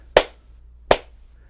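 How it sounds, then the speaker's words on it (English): Two sharp hand claps picked up by a wired lapel mic clipped to a shirt, spaced about three quarters of a second apart, crisp and close with a quiet room between them. "And a clap."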